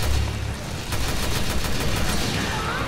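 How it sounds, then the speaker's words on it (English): Dense, continuous bursts of assault rifle fire blend with game music and effects during a monster fight in the video game Resident Evil Revelations 2. "I've been shooting at it."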